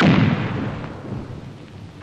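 An artillery gun fires in a 1947 Soviet war film, a heavy booming blast with a long rumbling decay, followed by the sharp onset of another shot.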